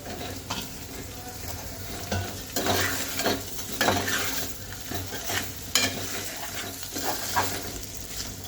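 Taro pieces fry in a pan for a tamarind curry, with a steady sizzle broken by repeated close scrapes and knocks of a spoon stirring against the metal, no talk.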